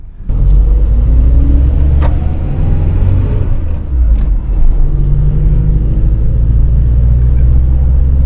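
An old car's engine rumbles steadily from inside the cabin as it drives around the block, a loud continuous low drone with slight swells, no talking.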